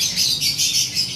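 A red pedigree pigeon gives a series of about five rapid, rough squawks in quick rhythm, loud and close with no talk.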